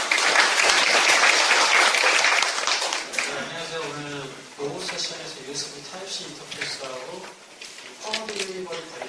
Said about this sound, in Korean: 이진우 차장님께 박수 한번 부탁드리겠습니다